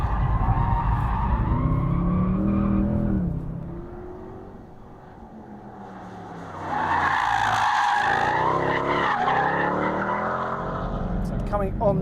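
A Mercedes-Benz C63 AMG Coupe's tires squeal and skid as the rear slides, rising and falling with a revving engine, loud and close, with a short quieter gap midway.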